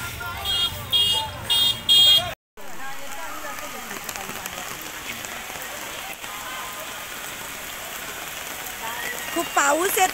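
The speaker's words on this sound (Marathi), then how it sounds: "खूप पाऊस येतोय आणि हे आपल्या जय श्री महाकालचं दर्शन, खूप जोराचा पाऊस येतोय।" Heavy rain pours steadily outside the Mahakal temple in Ujjain, a dense, loud, continuous wash of rain on surfaces, with a few brief louder bursts early on and no talking.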